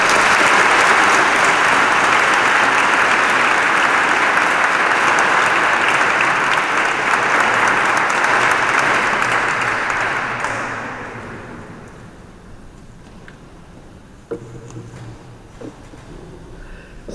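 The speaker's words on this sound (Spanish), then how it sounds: "vamos a recibirle con un fuerte aplauso" A large audience at a religious testimony talk gives a loud, sustained round of applause to welcome the speaker, dense clapping that fades out after about ten seconds into near quiet with a few stray sounds.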